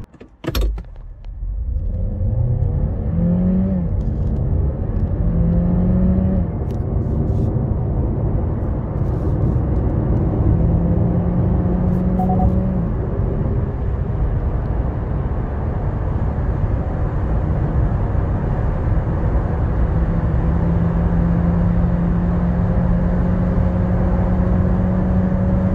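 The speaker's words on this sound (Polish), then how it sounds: "Zrobiłem za to przejazd od 0 do VMAXa, czyli do 165 km na godzinę według GPS." A Kia Niro HEV 1.6 GDI hybrid with a six-speed dual-clutch gearbox accelerates from standstill to about 165 km/h, a steady, loud engine drone heard from inside the cabin rising through gear changes, with wind and road noise building.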